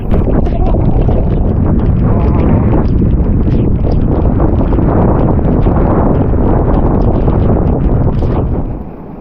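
Strong wind from a typhoon during a tournament buffets the microphone with heavy, continuous low rumbling and gusty roar, steady and loud throughout without pause.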